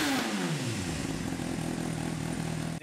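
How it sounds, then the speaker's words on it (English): A motorcycle fitted with a Yoshimura exhaust revs: a loud, close engine note that drops in pitch at first, then holds a steady rough drone for a few seconds before cutting off abruptly. "on the back end of the bike, we're running a Yoshimura exhaust."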